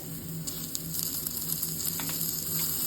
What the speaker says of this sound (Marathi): आणि तोही छान परतून घेणार आहे फोडणीमध्ये